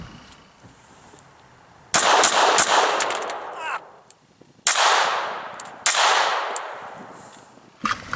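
Several loud, sharp gunshots are fired from inside a car, coming in quick bursts with short gaps, each crack followed by a brief ringing decay in the enclosed cabin.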